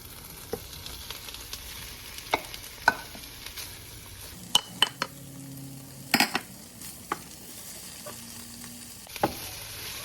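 Sauces are poured into a hot frying pan with tomato paste, giving a low steady sizzle broken by sharp scrapes and clacks of a utensil stirring against the pan.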